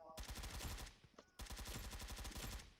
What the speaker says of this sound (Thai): ได้ยินเสียงคนยิงกันข้างนอก